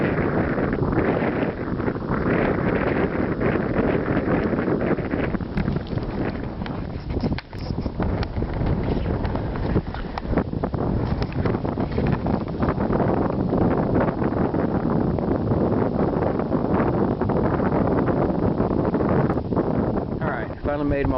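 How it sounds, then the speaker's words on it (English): Wind on a cold, blustery day with sleet falling buffets the microphone in a continuous, loud, rough roar that never lets up. "It's turning into a cold, blustery day now, and a little bit of sleet starting to fall."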